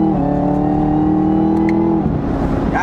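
A Chevrolet Camaro ZL1 engine pulling hard in 4th gear, a loud, steady rising drone heard from inside the car that drops in pitch near the end as the throttle eases, with no talking.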